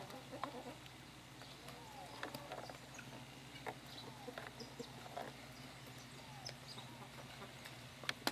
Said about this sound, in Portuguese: A galinha aqui.